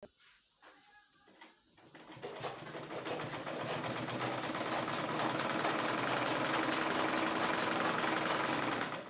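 Sewing machine stitching the front seam of a fitted trouser, starting after a brief quiet moment and running as a steady, close, continuous whirring hum to the end.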